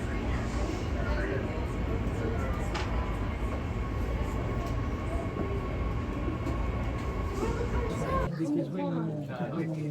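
A six-car Perth express passenger train runs with a continuous low rumble of wheels and motors and a faint steady whine, heard from on board with voices under it, until the sound cuts off sharply near the end.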